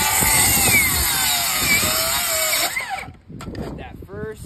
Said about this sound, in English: we're cutting some rafters.